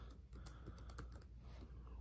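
A username being typed on a computer keyboard during a Windows 10 setup, a quick quiet run of close key clicks across about two seconds, with no voices.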